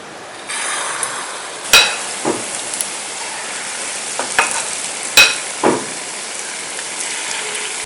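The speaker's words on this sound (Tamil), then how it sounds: "இதை வந்து நம்ம இப்போது டீப் ஃப்ரை பண்ணி எடுத்துக்கலாம்" Banana sweet bonda batter deep frying in hot oil, a steady hiss with a few sharp clicks of a ladle against the pan and brief bursts as batter drops in, close by with no talking.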